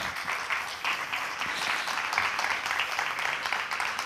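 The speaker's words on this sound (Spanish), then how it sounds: "Un aplauso, por favor." Audience applause at the opening of a book fair, a steady wash of clapping holding at an even level throughout, moderately distant and without voices over it.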